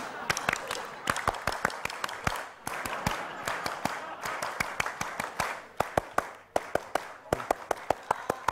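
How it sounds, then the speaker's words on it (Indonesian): A group performs the rhythmic Pramuka scout clap routine at the zoo, with sharp, evenly patterned hand claps repeating in quick sets throughout, close and loud, with faint voices underneath. "mari kita tepuk pramuka, tepuk pramuka!"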